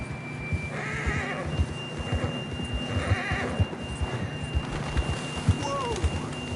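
A horse neighs in Red Dead Redemption 2, a whinny rising over steady clip-clop hooves and outdoor ambience, with a faint voice briefly present.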